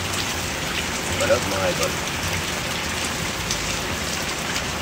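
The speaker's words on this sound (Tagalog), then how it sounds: "Pagkita mo dyan, ang lakas ng ulan. Malakas ang ulan." Heavy rain pours down steadily, a dense, loud hiss of drops drumming on surfaces close by, while someone speaks briefly over it.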